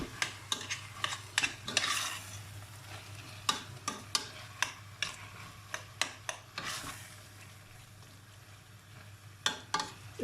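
Leek, onion and beef mince pie filling being stirred in a pan, with repeated scraping and clacking strokes of the spoon over a steady low hum and faint sizzle, no talking.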